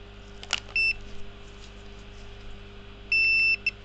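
A multimeter continuity test on a Fujitsu MPC-45GM mini tower sounds two steady electronic beeps, a brief one and then a longer one, with a few faint clicks in between against a quiet hum.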